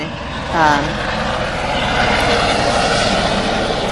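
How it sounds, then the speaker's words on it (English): A sightseeing tour helicopter passes overhead, its broad rotor and engine roar swelling loudly and holding steady as a dense wash of noise. "they're doing helicopter tours right now. So you're going to hear a lot of that going by"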